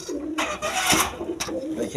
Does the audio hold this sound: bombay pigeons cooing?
yes